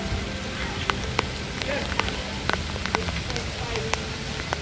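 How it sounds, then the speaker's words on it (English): Heavy cold rain pouring outdoors at a hillside hotel, a dense steady roar of downpour with scattered sharp drips and splashes, close and constant throughout. "it's pouring rain, bro, and it's cold"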